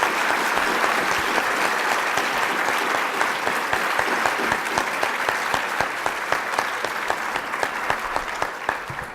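A patient summit audience gives the expert panel a warm round of applause, steady dense clapping from many people that holds strong throughout and tapers only slightly toward the end.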